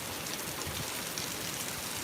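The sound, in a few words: rain falling during Hurricane Zeta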